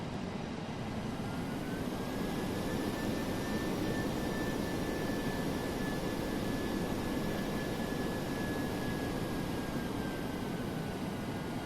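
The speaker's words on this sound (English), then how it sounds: "Taking off on a shorter runway." A DC-8-73F jet in Flight Simulator X spooling up for takeoff on a short runway, a steady loud engine roar with a slowly rising then falling whine throughout, no talking.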